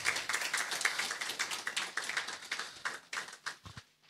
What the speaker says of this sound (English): Please, a clap for Professor Bobkin.